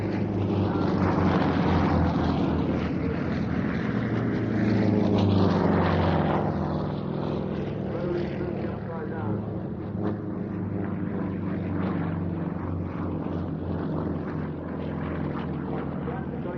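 Several Yak propeller aircraft swoop past at an air display, a loud droning engine roar that swells and falls as they pass overhead, with a faint commentator's voice underneath.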